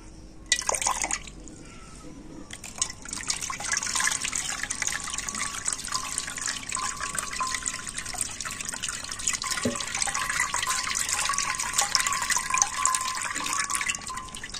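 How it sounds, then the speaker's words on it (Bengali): Homemade almond milk being strained through a cloth, with liquid trickling and dripping steadily and fairly close for most of the stretch after a brief rustle at the start. "তো দুধটা কিন্তু তো এইভাবে ছেঁকে নিতে হবে।"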